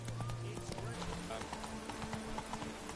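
Roach the horse trotting in The Witcher 3, with steady, close clip-clop hoofbeats running throughout alongside background game sound and a voice talking.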